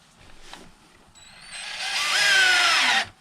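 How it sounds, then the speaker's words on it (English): A TOPSHAK TS-ED3 20V cordless electric drill with a tapered bit spins up, rising in pitch to a loud whine for about a second and a half before stopping abruptly, after a faint knock at the start. "it's a good drill to get your screws in as well as drill holes"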